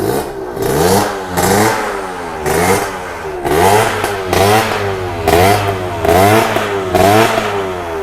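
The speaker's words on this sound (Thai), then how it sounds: "เสียงเครื่องยนต์นะครับเนาะ" A Tena 125 off-road motorcycle engine revs repeatedly in short bursts, each rising and falling in pitch over a steady idle, loud and close.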